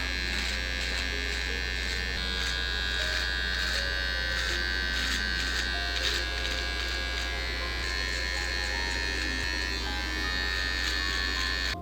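Walmart electric hair clippers buzz loudly and steadily while cutting hair for a self-administered mid fade, a close, constant motor drone with slight shifts in pitch as the blades move, no voices.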